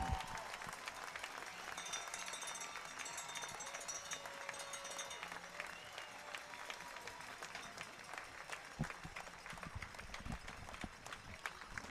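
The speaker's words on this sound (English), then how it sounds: "will give Merritt a well-deserved round of applause because he has pitched brilliantly" A baseball crowd at a championship game applauds pitcher Merritt Jones with a sustained, even wash of clapping and cheering from the stands, steady and distant throughout with faint voices underneath.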